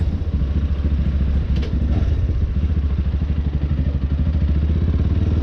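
A motorcycle engine runs steadily at idle, close and loud, with a continuous low throbbing rumble and mechanical clatter, no voices.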